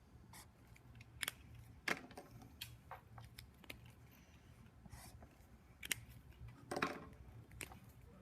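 Marker strokes squeak and scratch on a board as diagonal lines are drawn, a series of short, sharp bursts spread unevenly over a low steady hum, close and fairly quiet.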